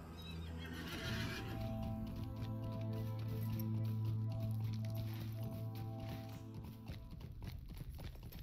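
A horse in Lord of the Rings Online gives a long, loud neigh, followed by a steady clip-clop of hooves and soft scuffing, with no voices over it.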